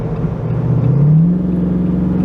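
A custom truck with a true dual exhaust accelerates on the interstate, its engine rising into a smooth, steady drone with a brief pitch climb midway as it pulls hard and close.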